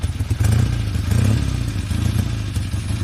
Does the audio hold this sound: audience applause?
no